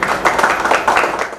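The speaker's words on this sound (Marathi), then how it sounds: "सर्वांनी जोरदार टाळ्या वाजवा." An audience at a ceremonial gathering gives loud, sustained applause, with many hands clapping in a dense, continuous patter and a faint voice mixed in beneath it.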